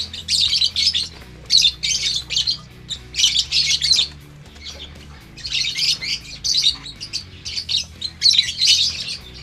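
Baby lovebirds squawk and chirp in dense, shrill bursts close by, one run of calls after another with short pauses between, loud and with no talk.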